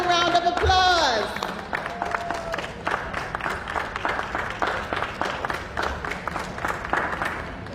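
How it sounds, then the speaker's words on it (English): An audience at a nurse of the year awards ceremony breaks into sustained applause with scattered cheering, after a brief amplified voice at the start. "Let's give them another round of applause."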